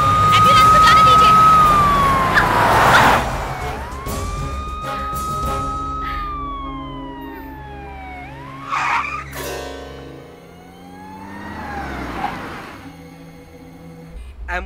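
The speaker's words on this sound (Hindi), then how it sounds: "आप लोग रुक जाइए, एम्बुलेंस को जाने दीजिए।" An ambulance siren wails in city traffic, loud and close at first with rising and falling tones, then fades and returns in shorter bursts among engine noise and a voice.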